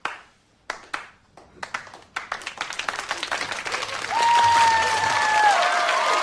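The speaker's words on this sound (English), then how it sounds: "That is a Guy initiated round of applause." A studio crowd on a political talk show breaks into a round of applause, starting as a few scattered claps that build into steady, dense clapping with some cheering, while a faint whistle-like tone glides through the latter half.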